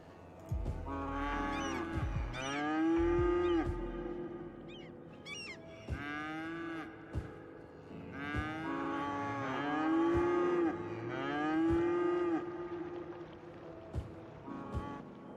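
Highland cows on a small farm in the Cities: Skylines city-building game, mooing repeatedly in long, loud, overlapping lowing calls that rise and fall across the span, with no talking.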